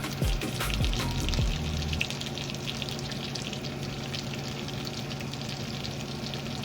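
Sweet peppers for fajitas frying in a pan in a hotel kitchen, a steady wet sizzle with a few knocks and a rising rush in the first two seconds that settles into an even hiss.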